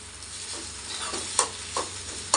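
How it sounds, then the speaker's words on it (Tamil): Egg podimas, a spiced scrambled egg dish, being stirred in a hot pan, with a steady sizzling hiss and a few sharp scraping strokes near the end, close and clear with no talking. "இப்போ நல்லா கிண்டிக்கலாம்"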